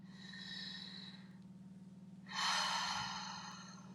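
A slow, deep breath drawn in and let out by a person relaxing in a calm session, a soft airy inhale followed after a pause by a louder, longer exhale, with a steady low hum underneath.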